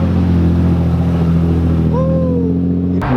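A Mazda Miata idles with a steady low rumble among other cars at a car meet, the engine note rising briefly, with background crowd noise and a sharp thump near the end.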